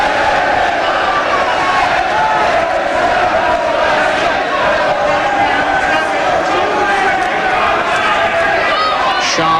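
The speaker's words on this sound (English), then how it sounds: "Crowd trying to lift Till." Boxing arena crowd roaring and chattering continuously for home fighter Andy Till in a bout against Wally Swift, a dense, loud wall of voices throughout with a commentator's voice mixed in.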